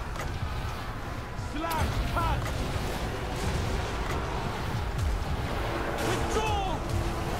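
Naval cannons firing in a fantasy strategy battle of Total War: Warhammer II, repeated booms and creaking shots over dense battle ambience with whistling projectiles, continuous and fairly loud.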